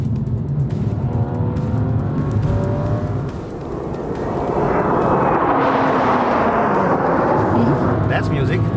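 A BMW 2 Series Coupé engine growls loudly and continuously, swelling into a stronger rev toward the end, with the exhaust note rising and holding steady.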